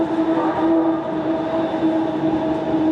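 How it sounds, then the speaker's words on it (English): Train rolling past nearby in a steady, loud rumble with a sustained tonal whine on top, continuous throughout and with no voices over it. "The train passed."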